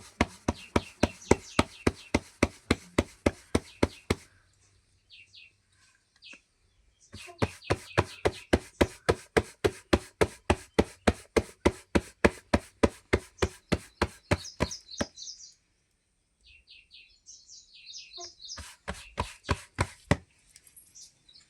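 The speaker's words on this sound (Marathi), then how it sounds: "आता आई भाकर थापतात आहे" Steady rhythmic slapping of bhakri flatbread dough by hand, fast repeated pats in long runs with brief pauses between, close and crisp.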